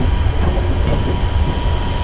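Steady rumble and wheel noise of a ScotRail Class 380 electric train running on the Glasgow airport rail link, heard from inside the driver's cab, loud and continuous.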